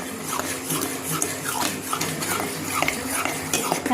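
Cream and water are stirred and churned by hand into buttermilk to make butter, producing continuous close swishing and sloshing with light scraping knocks against the vessel, and no voices.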